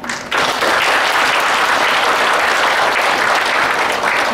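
Loud, sustained applause from a seminar audience fills the hall, welcoming a former vice president to the stage at an anniversary symposium in Taiwan, steady and dense from start to finish after a brief quieter moment.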